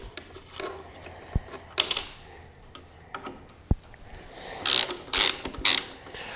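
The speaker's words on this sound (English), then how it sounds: "So I'll use a 10mm wrench on this side and a T30 over" A 10mm wrench and a T30 driver remove plastic cover screws on a BMW R1250GS motorcycle, making quiet, close ratcheting clicks in short bursts with a few sharp metallic taps between them.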